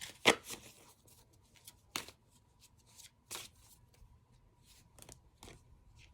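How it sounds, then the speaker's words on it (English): A deck of cards being shuffled in several quick, crisp riffling bursts, with short pauses and faint background between them. "One more quick shuffle."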